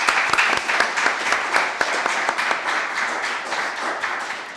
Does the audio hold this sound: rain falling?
no